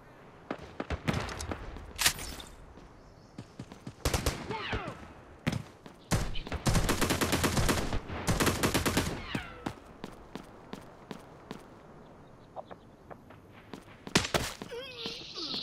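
Gunfire in the mobile shooter game Delta Force Mobile, loud rapid bursts and single shots in irregular clusters with thuds between, while players talk over voice chat.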